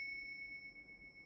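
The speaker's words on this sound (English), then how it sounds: "I'll just ring some bells." A meditation bell rings in a quiet room, one clear, steady, sustained tone that is faint and fades slowly, with no voices.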